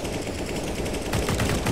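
Rapid automatic gunfire in Counter-Strike: Global Offensive, loud continuous bursts of shots filling the whole moment, dense and unbroken with no talk over it.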